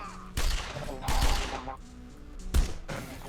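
Gunfire in the video game Sots: The Pit, several sharp broadband bursts and short volleys spread over a few seconds, loud and close, with some voice or game sound between them.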